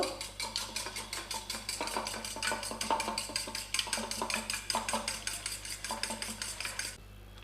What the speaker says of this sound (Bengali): দুটো ডিমের মধ্যে অল্প একটু নুন দিলাম, ভালো করে ফেটিয়ে নেব